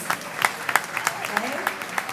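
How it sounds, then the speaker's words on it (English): Scattered clapping from a school board meeting audience, with distinct individual claps standing out over a thin, steady spread of applause, brief and moderately close. "So big round of applause, please."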